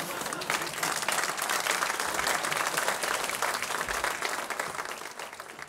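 Sustained audience applause for a university chancellor at a library dinner, a dense, steady wash of many hands clapping at close range for several seconds before tapering slightly at the end.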